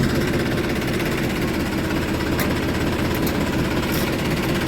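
A tractor engine runs steadily in a trench-cultivated field, a constant heavy low rumble with dense vibration that stays loud and unchanging throughout, with no voices.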